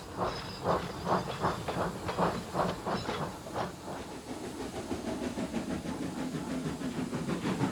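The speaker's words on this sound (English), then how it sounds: "Phil shunted the wagons away and puffed out of the coal yard." A steam locomotive shunts wagons out of a coal yard, puffing in a quick run of rhythmic chuffs over a soft hiss that then settles into a steadier rumbling roll.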